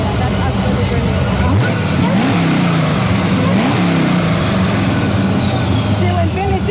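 Turbocharged GMC Syclone pickup on air ride suspension revs hard at close range, a loud steady engine roar with rising and falling pitch sweeps, and people talking over it.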